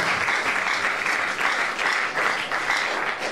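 A church congregation claps together in acclaim of the Lord during a French Bible study service, steady sustained applause from many hands, fairly close and unbroken for a few seconds.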